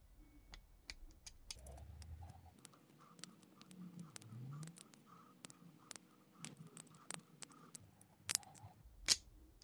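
Small dry clicks tick irregularly as a bearing is twisted out of a hobby servo during a continuous-rotation modification, faint and close-up over a quiet background, with a few sharper snaps near the end.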